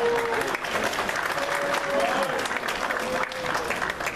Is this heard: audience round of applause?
yes